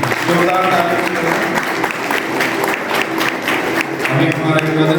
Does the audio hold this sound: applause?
yes